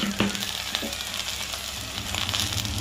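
Chopped tomatoes drop into hot oil in a pan of deep-fried okra for Karnataka-style bendekai gojju, giving a steady, moderately loud sizzle with a few sharp crackles and stirring clicks.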